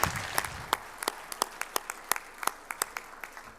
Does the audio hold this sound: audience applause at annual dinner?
yes